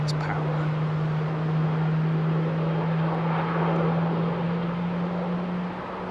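An airliner with CFM56 engines roars steadily at London Heathrow Airport, a broad sustained rumble with a strong droning tone that holds for the whole stretch.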